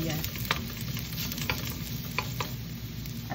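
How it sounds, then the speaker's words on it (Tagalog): Plenty of chopped garlic and onion sauté in a pan, a continuous close sizzle broken by light scrapes of a spatula stirring, with no talking. "Pintayin ko lang yan na medyo luto yung bawang at sibuyas."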